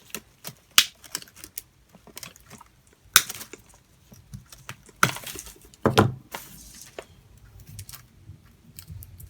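Wire cutters snip through wire on a wooden Dollar Tree pumpkin craft, giving a series of sharp, close clicks and snaps spread irregularly, with a few louder cuts among quieter handling noises.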